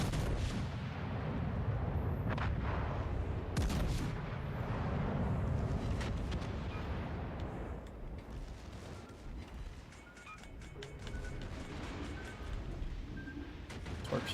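Torpedo hits in the naval battle game World of Warships Legends, a dense stretch of heavy booming explosions and rumbling blasts, loud and continuous at first, then thinning into scattered hits and background battle noise.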